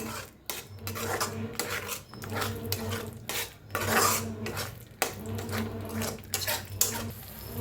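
Masala for egg curry roasting in oil in a pan, stirred with a spoon that scrapes and clanks against the metal in irregular bursts over a low sizzle.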